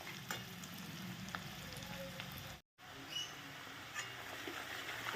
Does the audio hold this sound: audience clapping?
no